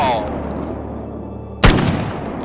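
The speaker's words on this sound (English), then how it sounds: "that's what I get for using a shotgun" A single loud shotgun blast in the video game Stalker Gamma, a sharp close crack with a short decaying tail, coming after a stretch of quieter ambient tones.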